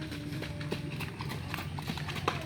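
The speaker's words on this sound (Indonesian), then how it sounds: "Nah ini ada lagi satu ekor kuda nih" Racehorse hooves clip-clop in a steady, moderately paced rhythm on a training track at the Sumedang racecourse, the sharp hoof strikes fairly close over a low background rumble and faint voices.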